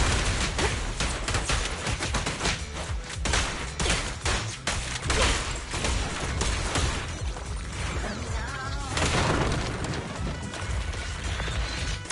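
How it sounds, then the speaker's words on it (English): Gunfire and combat effects from the video game Zenless Zone Zero sound dense and loud, with rapid overlapping shots and impacts continuing throughout under a busy game soundtrack. "No restrictions! Fire at will!"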